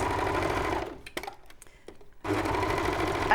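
Overlocker serger stitching stretch sweatshirt fabric, a fast steady mechanical whirr that pauses for about a second with small clicks and handling noises, then resumes at full speed, with no voices.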